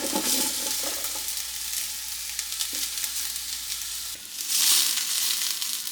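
Onions sauteing in olive oil in a stock pot, a steady close hiss and sizzle with scattered crackles and occasional stirring scrapes, swelling briefly near the end.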